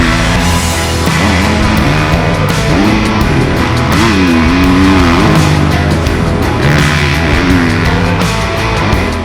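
A 2024 GasGas MC350F motocross bike with a 350 four-stroke engine rides hard, its loud engine rising and falling in pitch through revs and shifts, close and continuous with no voices.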